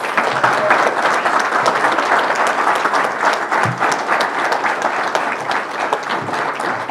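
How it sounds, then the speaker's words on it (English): Loud, sustained applause from the audience at a youth awards ceremony, dense clapping from many hands that stays steady throughout with no talking over it. "let's give a huge round of applause to Danny Williams."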